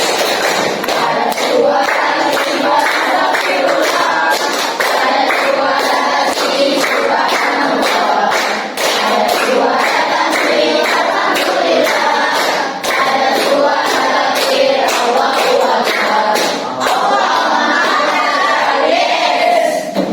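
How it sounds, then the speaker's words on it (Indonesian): Classroom group performing tepuk zikir, a rhythmic clapping chant with many voices, steady sharp claps over continuous group chanting, loud and close throughout. "kita tepuk zikir dulu. Tepuk zikir."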